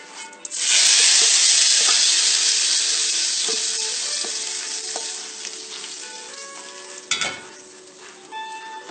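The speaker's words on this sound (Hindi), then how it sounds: "अब इसको पकी हुई दाल में मिक्स कर देना है।" A sudden loud sizzle bursts out as hot oil tempering hits cooked lentils for dal mash, then settles into a steady frying hiss with a few clinks of stirring.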